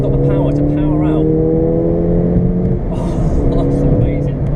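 A Ford Fiesta ST MP215 pulls hard out of a roundabout, its engine note climbing in a steady rising drone heard from inside the cabin before easing off, while a person talks over it.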